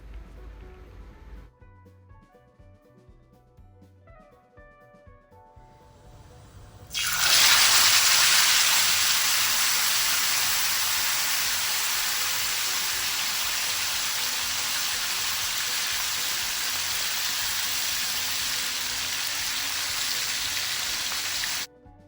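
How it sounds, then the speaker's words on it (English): Fish slides into hot oil in a thick-bottomed pan, and a loud burst of sizzling erupts and then holds as a dense, steady crackle for a long stretch with no talk, after some quieter kitchen clatter. "Cook the fish on medium heat and on both the sides."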